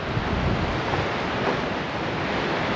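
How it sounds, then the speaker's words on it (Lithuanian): Wind-driven sea waves surging onto a beach on the Spanish coast in winter, a steady broadband roar of surf with constant wind buffeting the microphone, loud and continuous with no clear breaks. "kai vėjas nuo jūros tiesiog banga stumia"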